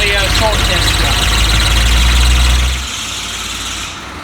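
Loud, steady low diesel rumble from a Chevy Van G20 6.2 diesel, heard inside the cabin with the engine cover missing, dropping in level near the end as the engine note eases.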